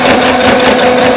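A sewing machine runs continuously while top stitching fabric, giving a brief, close, even whirring hum with no pauses.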